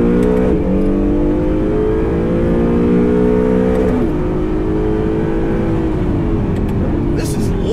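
A 2019 Acura NSX driving the Long Beach Grand Prix street circuit, its engine droning loudly and steadily from inside the cabin, pitch sliding down and back up through gear changes and corner exits.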